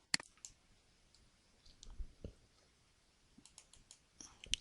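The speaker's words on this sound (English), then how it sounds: "And I'm just going to click OK." Computer mouse clicks, a few sharp isolated clicks scattered over a quiet background, close and faint, with a small cluster at the start and end.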